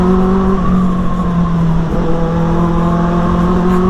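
A Benelli superbike with a modified exhaust runs loud and close, holding a steady deep engine note throughout, with a slight pitch dip partway and a rough, rumbling tone.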